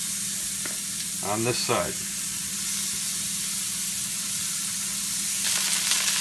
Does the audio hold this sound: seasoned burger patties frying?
yes